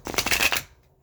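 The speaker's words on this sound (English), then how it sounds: "I just want to get this shuffle real good." Tarot cards riffle in a quick shuffle, a close, crisp burst of rapid flutters lasting about half a second before cutting off into quiet.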